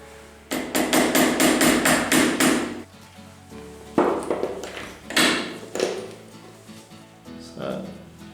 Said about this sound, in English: We give it a bit of a tap with the hammer, just to the point where it binds.